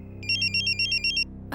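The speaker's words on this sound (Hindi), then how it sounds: "देखो मेरे जानू का फोन भी आ गया।" Mobile phone ringing for an incoming call, a bright electronic ringtone pulsing in quick regular bursts for about a second, loud and close, then cut off.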